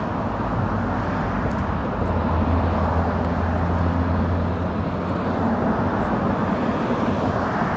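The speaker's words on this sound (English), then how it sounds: "You think I like walking beside this traffic noise?" Road traffic roars steadily alongside a pedestrian walk, a broad continuous rumble with low engine hum swelling and fading as vehicles pass nearby.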